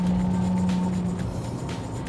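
A 2024 McLaren Artura supercar cruising at 60 km/h, its engine giving a steady low drone with a faint whine, moderately loud and unbroken for about two seconds.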